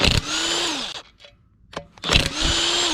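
An impact wrench spins 19 mm bolts off a 240sx rear hub in two loud whirring bursts, with a gap of quiet clinks and tool handling between them.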